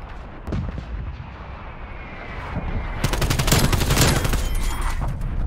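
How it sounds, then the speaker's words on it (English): Heavy artillery barrage and rapid gunfire in a Call of Duty match, a dense, loud stretch of booming blasts that builds into a thick wall of rapid cracks and rumbling impacts with no talk over it. "Incoming artillery"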